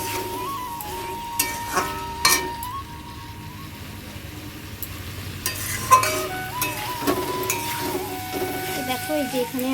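Potatoes being stirred and sautéed in a pan sizzle softly under a spoken voice, with intermittent scrapes and clinks of the utensil against the pan.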